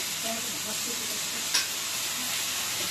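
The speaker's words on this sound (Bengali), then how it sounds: "ভালো করে নাড়াচাড়া করে নেব।" Raw jackfruit curry with ginger-garlic paste being stirred in a frying pan, a steady broadband sizzle with a few soft scraping strokes and one brief sharp clink near the middle.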